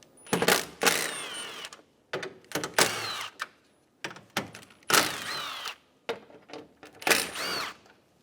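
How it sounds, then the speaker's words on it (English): Ratcheting socket wrench loosening 10mm bolts on the front bumper of a 2012–2020 Chevrolet Sonic, loud close bursts of rapid clicking in repeated strokes separated by brief pauses. "Using a 10mm socket, remove the 4 10mm bolts."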